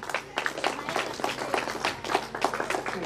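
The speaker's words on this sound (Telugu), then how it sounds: "క్లాప్స్." An audience applauding at a 1991–95 alumni reunion gathering, with steady moderate clapping from many hands throughout, slightly distant and fairly quiet.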